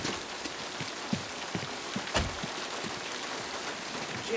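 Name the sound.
heavy rain in the film Psycho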